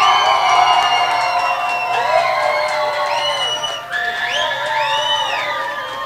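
Studio audience of a singing reality competition cheering and whooping for a contestant, a dense crowd roar with shouts and whistles rising and falling throughout, near and loud.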